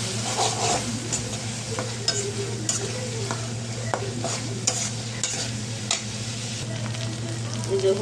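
Dried fish (shutki) frying with lightly browned onions in a pan for a jackfruit-seed curry, a steady close sizzle broken by repeated sharp scraping stirs, with no talking.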